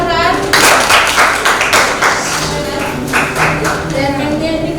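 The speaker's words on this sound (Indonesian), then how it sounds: "Ya, berikan aplaus untuk Mujahran." A class applauds a student in an Indonesian lesson, a steady burst of clapping from many hands that carries on through the whole stretch, with children's voices mixed in.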